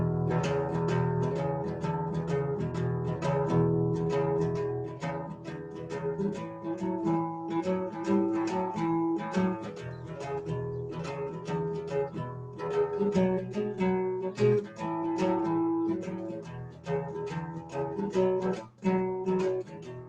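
A twelve-bar blues shuffle played with a steady swung rhythm of repeated plucked notes, occasionally reaching a half step above the shuffle note, continuous and fairly loud with no voices.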